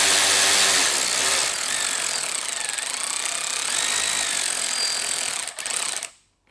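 A power tool drives screws into a 2019+ Rav4 Taco Vinyl Apex grill with a loud, continuous high-pitched whir and buzz, then cuts off abruptly near the end.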